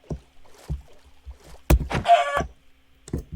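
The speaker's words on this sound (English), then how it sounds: "And a chicken." A chicken in Minecraft clucks in a burst of short calls partway through, set among scattered footsteps and soft game sounds, fairly close and moderately loud.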